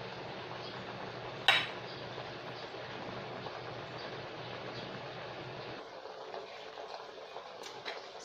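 A pot lid is set back onto a pot of simmering Filipino pork belly adobo, making one sharp metallic clank over a steady low cooking hiss, followed by a quieter stretch.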